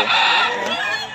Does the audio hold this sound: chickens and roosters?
yes